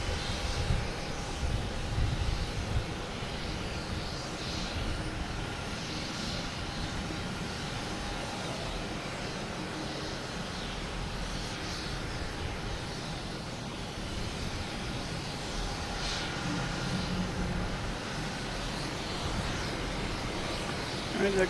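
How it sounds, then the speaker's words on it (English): An Air Canada airliner rolls on the runway at Boston Logan Airport, its engines a steady distant roar over a broad wash of outdoor noise while someone talks intermittently. "Once this Air Canada clears the runway."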